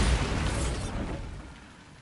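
A Bombarda spell blast in Hogwarts Legacy, a single dull boom with a broad noisy burst that fades over about two seconds, heard alone.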